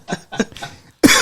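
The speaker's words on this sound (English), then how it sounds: "I'm coughing." A single sharp cough bursts out after a few short vocal sounds, close and loud, ending the clip.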